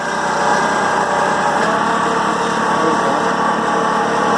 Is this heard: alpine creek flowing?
no